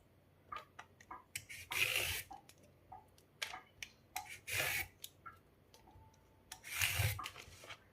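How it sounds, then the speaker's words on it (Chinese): A vegetable peeler scrapes the skin off a cucumber in a kitchen, three longer rasping strokes among short, soft scraping and tapping sounds, close and quiet. "取一个削皮刀，把黄瓜皮给它削掉"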